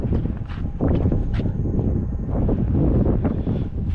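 Wind gusting outdoors at night, a steady loud rumbling buffet against the microphone that continues throughout with slight swells.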